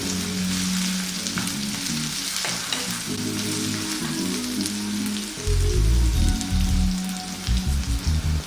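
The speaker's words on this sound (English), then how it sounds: "on this high heat, we're going to spin that around maybe for about 3 to 4 minutes, just so that the onions soften" Onions fry over high heat in a pan for a Sri Lankan black chicken curry, a loud, close, crackling sizzle broken by stirring and scraping, with no talk.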